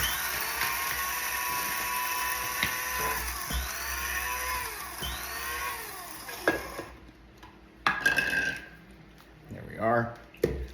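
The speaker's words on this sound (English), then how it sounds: "Use my little spice grinder and make flour." A small electric spice grinder milling oats into flour gives a loud, steady whirring buzz for about seven seconds, then cuts off, followed by scattered clatter and a voice.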